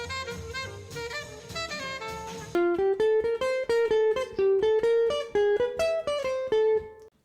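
A short lick from the end of a solo, played after a brief dense intro as a run of clear, evenly spaced melodic notes, fairly quiet and unaccompanied by speech.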